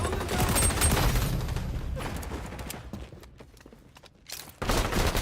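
Rapid video-game gunfire in an XDefiant capture-zone match, loud bursts of shots clustered at the start, fading through a quieter stretch, then a sharp burst returning near the end.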